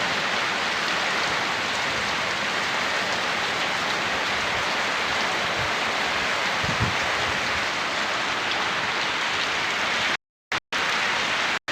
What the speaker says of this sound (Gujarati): ભાઈ વરસાદ તો ચાલુ છે પણ સારું